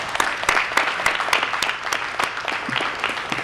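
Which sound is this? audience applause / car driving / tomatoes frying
audience applause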